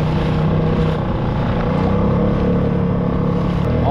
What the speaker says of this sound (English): I'm not liking this wind.